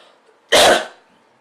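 A single short, harsh cough bursts out close by, followed by a brief fading rasp and near silence.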